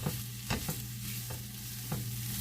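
Steak fajitas sizzling in a hot pan, a steady frying hiss broken by several short scraping strokes as the meat is stirred, close and without any voices.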